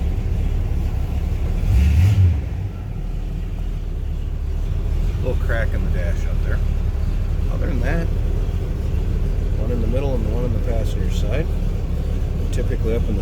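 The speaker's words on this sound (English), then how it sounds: "There you can hear the compressor turn on, and you can hear it on the engine too." A 1978 Pontiac Trans Am engine idles with a steady low rumble and a slight shift in tone early on as the air conditioning compressor switches on, while a person talks over it.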